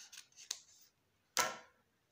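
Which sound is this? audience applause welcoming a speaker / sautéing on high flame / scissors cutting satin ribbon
scissors cutting satin ribbon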